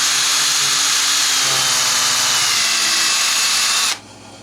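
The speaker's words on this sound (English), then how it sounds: "And drill one there, and drill one down here on the opposite side" A power drill runs loudly and steadily, its high whine grinding through a wooden fretboard for a Guild JF65-12 guitar for several seconds before stopping abruptly.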